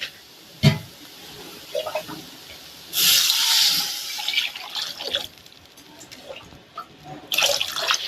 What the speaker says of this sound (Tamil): இந்த குழம்புக்கு தேவையான அளவுக்கு தண்ணி சேர்த்துக்கலாம்.